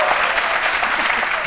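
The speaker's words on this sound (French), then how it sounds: "On l'applaudit bien fort." A studio audience claps loudly and steadily through a short, dense burst of applause.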